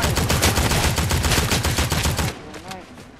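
Rapid bursts of gunfire in the video game Fortnite, dense and loud for about two seconds before cutting off, leaving a fainter tail of game sounds.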